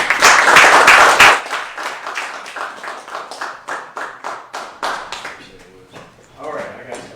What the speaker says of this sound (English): Let's give a round of applause for Stephon West.